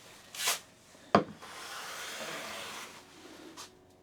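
A Lie-Nielsen No 5 hand plane taking very fine, airy shavings from wood: a few short, soft swishing strokes, with a sharper scrape near the middle and a longer gentle rasp afterward, close and quiet.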